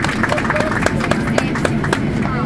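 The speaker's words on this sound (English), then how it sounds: "We can all give him a round of applause" Passengers aboard a Ryanair Boeing 737-800 clap in scattered, uneven bursts for a birthday, the applause mixed with crowd murmur and cabin background noise.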